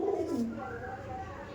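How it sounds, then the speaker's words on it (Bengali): Male pigeon cooing in a loft, a short low throaty coo near at hand over faint background noise. "আর এটা হচ্ছে মেল পায়রা।"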